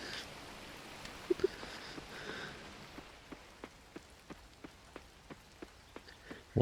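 Rain in the farming game Coral Island falls as a steady hiss, with scattered sharper drop taps at an even pace and a brief thump at the very end.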